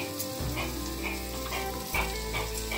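Cooking oil heats in a pan for baigan bharta, giving a steady close sizzle and frying crackle with soft stirring clatter.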